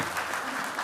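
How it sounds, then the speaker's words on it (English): Audience applause for Sachin Pilot, a steady dense wash of clapping filling the short moment at even loudness, heard alone without voices. "Sachin Pilot, let's give him a round of applause"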